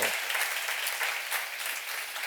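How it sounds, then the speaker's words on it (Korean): A short burst of dense audience applause erupts at a church seminar, many hands clapping together in an even, continuous roar without talk. "박수"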